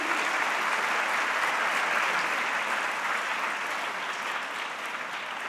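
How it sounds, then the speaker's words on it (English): Applause from a large concert audience at a musical extravaganza, a steady even roar of hands that sounds fairly distant and tapers slightly toward the end. "Big round of applause"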